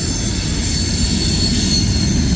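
A long CSX mixed freight train rolls past at Point of Rocks, Maryland, with an ATSF hopper among its cars; steady loud wheel rumble and squealing rail noise fill the scene, with no one talking.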